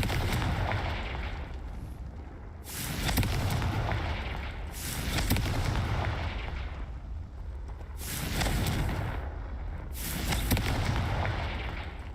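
Confringo blasting-curse explosions in the video game Hogwarts Legacy, four loud bursts that each flare up and fade at a steady interval of about two and a half seconds, with no talking between them.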